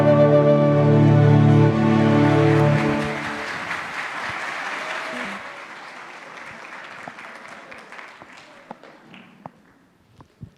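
Applause in a church audience for a singing group at a Bible seminar, following the tail of sustained music; the clapping thins into scattered, fading claps over several seconds.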